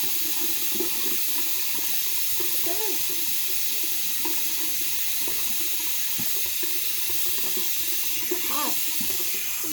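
Hot water running from a tap in a steady, continuous hiss and splash, close and fairly loud, with faint background sounds underneath.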